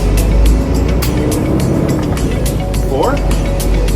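A Peterbilt truck's diesel engine drones loud and close while an Eaton 18-speed manual transmission is shifted, with a brief rising rev sweep partway through and someone talking over the steady rumble.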